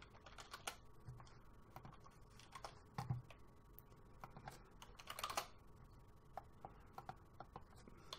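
Faint, irregular keystrokes tap on a computer keyboard in bursts during a quiet software session, with a few slightly sharper clicks standing out.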